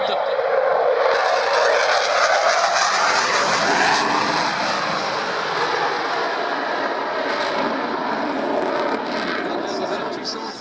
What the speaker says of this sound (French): On entend la poussée des deux moteurs M88